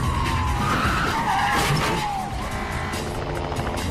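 Police cars skid out of control in a car chase, tires squealing loudly and continuously over roaring engines, with no gaps.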